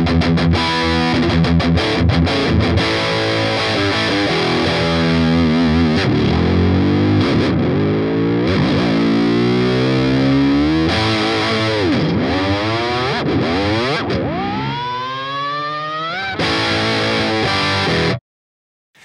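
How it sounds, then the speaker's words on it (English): A Fender Player Stratocaster HSH electric guitar with a double locking tremolo plays loud, heavily distorted riffs with wide bends and tremolo dives, sustained and continuous, then cuts off abruptly near the end. "you can do all your crazy bends and tremolo tricks and the guitar will stay in tune"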